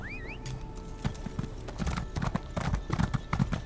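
Steady horse hooves clip-clop in the video game Elder Scrolls Online, a brisk rhythmic gait over game ambience, with someone speaking German now and then and a short whinny near the start.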